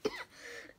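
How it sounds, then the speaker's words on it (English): One short, fairly quiet cough comes from a person indoors, with a sharp onset followed by a faint breathy tail. "sorry, still have my cough."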